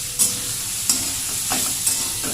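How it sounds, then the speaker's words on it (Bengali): Soybean chunks fry in oil in a home kitchen pan, a steady close sizzle punctuated by a few sharp stirring scrapes at regular intervals. "সয়াবিনটাকে একটু তেলে লাল করে নিই"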